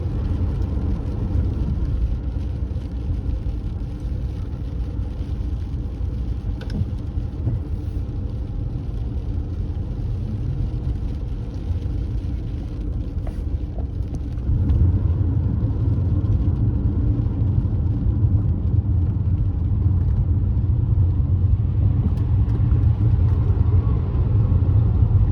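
A 2015 BMW 520d cruises on an expressway with a 100 km/h limit. From inside the cabin, a steady low road and engine rumble drones on, growing slightly louder and fuller about halfway through.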